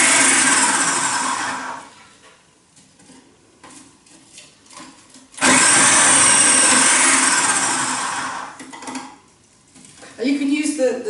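A kitchen blender chops chunks of cabbage, including the thick stalk, for sauerkraut. It roars loudly in three separate runs, with quieter rattling and clattering in the gaps between them.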